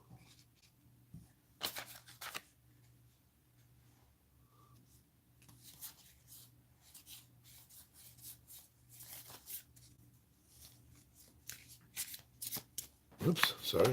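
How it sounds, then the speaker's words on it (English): A deck of cards shuffled during a tabletop board game, with repeated crisp riffling bursts and light card handling close by, under a soft background hum. "So now we're going to get these cards out of the way here. We're going to reshuffle them."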